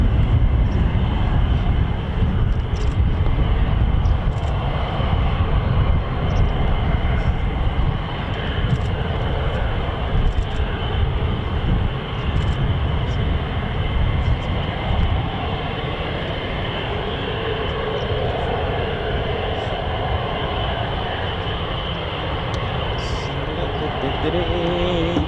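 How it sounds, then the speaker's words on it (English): F-15 fighter jet engines idle at the end of the runway at RAF Lakenheath during hot-pit refuelling, a loud, steady, broadband roar that holds for the whole stretch, with faint voices at times. "when it gets to the EOR, that's the end of runway where they park the F-15s on the screen, you'll hear the engine start up"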